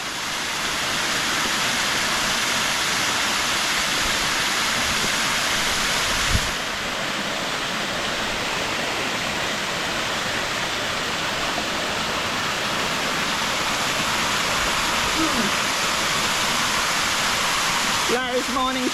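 Robin Falls pours in a steady, dense broadband roar from close by, unbroken for the whole stretch, with a brief faint voice near the end.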